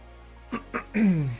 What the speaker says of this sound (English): Clear my throat a little bit